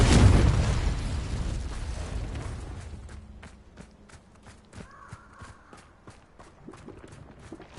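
A Confringo fire spell explodes in Hogwarts Legacy with a loud, broad burst that decays over a few seconds, followed by quieter scattered pops and crackles.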